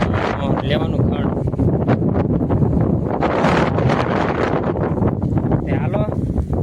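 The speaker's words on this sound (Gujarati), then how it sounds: "હાલો પવન એ બહુ આવે છે." Strong wind buffets the microphone outdoors on a farm where dry fodder is being gathered, a loud, continuous rumbling roar that runs the whole way through with brief gusty surges; a voice is heard faintly in the mix.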